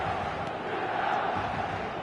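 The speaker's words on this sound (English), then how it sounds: "And the matchday noise at this place is truly special." A football video game plays a dense, steady wall of stadium crowd noise, a full roar of chanting and shouting fans at an evening match that stays constant throughout.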